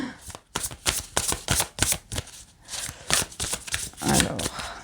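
Tarot cards being shuffled by hand, a quick run of crisp riffling flutters and soft slaps at close range, somewhat uneven in rhythm, with no talking.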